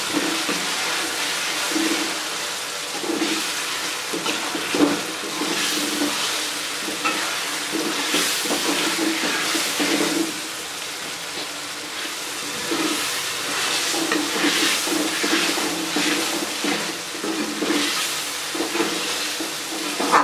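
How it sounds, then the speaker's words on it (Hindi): Potatoes fry with ginger masala in a pan, giving a loud, continuous close sizzle with bursts of hiss and occasional scraping stirs, no voices present. "आलूओं को अच्छे तरीके से फ्राई करेंगे।"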